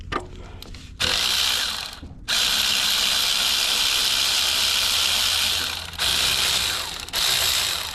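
A ratchet wrench torques bolts on a Toyota Camry during an alternator replacement, giving close, loud runs of rapid clicking in three bursts separated by short pauses, with no talking.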